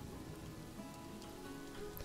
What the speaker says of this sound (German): Regen lässt das Spiel auf jeden Fall richtig hart ruckeln.